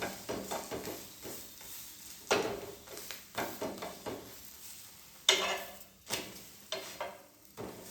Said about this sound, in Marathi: अशा प्रकारे बटर लावून घ्या आणि व्यवस्थितपणे भाजून घ्या.